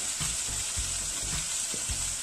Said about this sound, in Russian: У нас начали закипать сливки, мы перемешиваем.